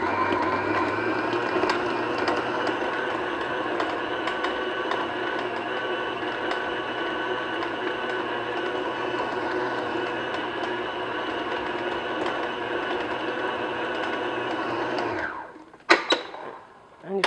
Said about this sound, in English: put the butter into the mixer, and if you don't have a stand mixer like this, just use an electric hand mixer with a large bowl